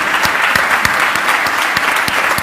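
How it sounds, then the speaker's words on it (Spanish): Loud, steady applause from an audience at a Spanish-language sustainable finance event, dense clapping filling the whole stretch with a few sharper individual claps standing out near the front. "les pido un aplauso muy fuerte para Marcela"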